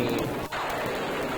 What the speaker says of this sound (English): Alexander feels a drop. It starts to rain.